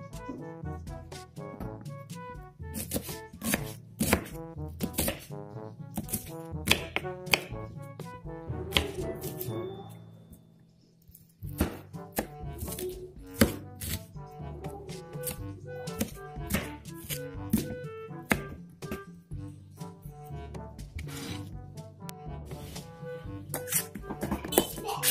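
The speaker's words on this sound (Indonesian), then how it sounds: "potong setengah bawang bombay" Knife chopping half an onion on a cutting board, a steady run of crisp taps that pauses briefly mid-way before resuming, with faint background music underneath.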